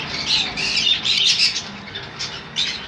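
A yellow-sided conure gives a quick series of harsh, shrill squawks, close and loud, with a few overlapping calls from more than one bird.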